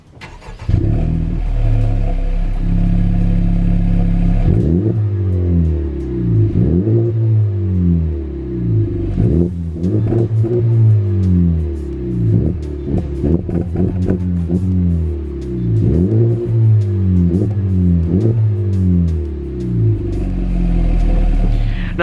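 A Honda Civic Type R with its two rear mufflers removed revs repeatedly, a loud, close exhaust with deep rising and falling harmonics and several sharp throttle blips over a steady low rumble.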